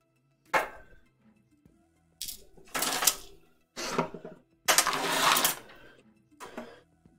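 A blade cuts into embroidered fabric laid on a cutting mat. Separate sharp, scratchy bursts of slicing come with short pauses between them, close and fairly quiet.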